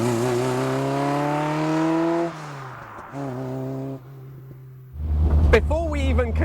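A Renault Sport Spider's engine revs up in a rising, throaty climb, then drops back to a lower idle-like drone before a rougher, louder burst of revs near the end.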